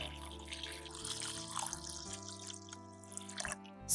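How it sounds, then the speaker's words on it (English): Water is poured over a piece of ginger root in a small pot, quiet splashing and trickling with a few drips and a brief louder splash at the end, close and fairly faint. "Then pour water over the ginger."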